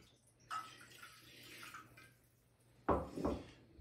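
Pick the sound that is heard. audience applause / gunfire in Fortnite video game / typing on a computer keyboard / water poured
water poured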